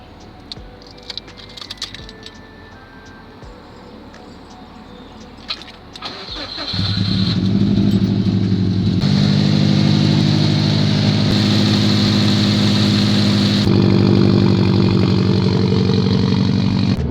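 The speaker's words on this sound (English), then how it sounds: "We're gonna start the car." Clicks and rattles come first, then a Subaru WRX engine cranks and catches after a fuel filter replacement, settling into a loud steady idle close by.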